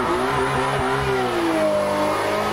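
Car engine in a sim racing video game revving hard for a burnout, pitch sweeping up and down in a steady, loud, continuous roar with no talk.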